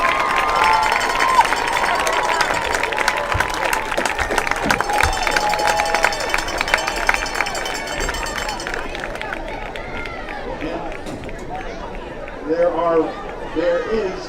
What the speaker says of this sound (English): an appropriate standing round of applause for our cheerleaders.